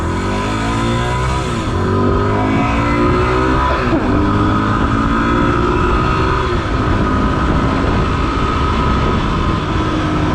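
Motorcycle ridden on the street in a continuous loud engine drone with wind rush, the pitch rising and falling through gear changes over steady traffic noise.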